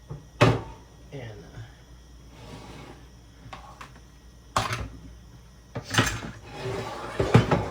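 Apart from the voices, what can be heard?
skillet being moved to drain macaroni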